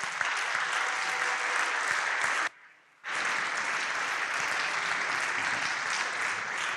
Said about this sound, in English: stand up for one last round of applause